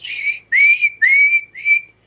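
A voice whistles in imitation of a small, shrill eagle bone whistle used during dancing, giving four loud, piercing rising tones in quick succession, each held briefly with short gaps between them.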